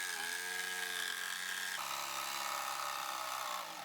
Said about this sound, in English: To make this ramp, I've only got a few cuts to do, so I opted to go with the jigsaw.